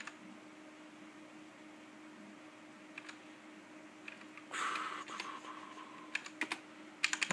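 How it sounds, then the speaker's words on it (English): Typing on a compact mechanical keyboard with Cherry Brown switches: soft, irregular clicks and clacks close up, sparse at first, then a dense burst of keystrokes, over a low hum. "This is the keyboard I'm using, by the way, if you're curious. It's one of those compact cherry brown switch ones, if you recognize that sound."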